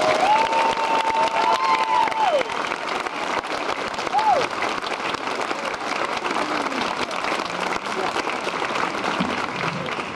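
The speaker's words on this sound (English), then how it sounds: "give a very large round warm of applause for the Rear Admiral Jerry Brest." Large outdoor crowd applauding and cheering at a 1991 Desert Storm rally on a town square in Shelbyville, a steady dense roar of clapping with a few whistles and shouts rising over it throughout.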